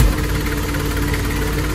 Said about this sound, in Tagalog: So, narinig mo na lang yung onda na makina.